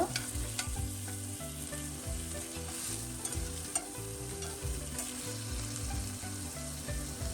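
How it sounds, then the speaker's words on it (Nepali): Bitter gourd (karela) sizzles in a hot pan while a utensil stirs it, giving a steady frying hiss under rhythmic scraping and clacking strokes. The sounds are close and moderately quiet, with no talk. "करेलालाई हामीले यसरी चलाउँदै पकाउनु पर्ने हुन्छ।"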